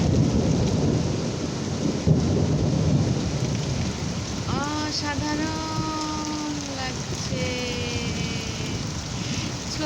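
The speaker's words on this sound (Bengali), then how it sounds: "ভয় লাগে বিদ্যুৎ চমকাতে দেখলে বৃষ্টিও আসছে" A night thunderstorm pours heavy rain in a constant hiss while a deep thunder rumble rolls through, and someone talks nervously over the downpour.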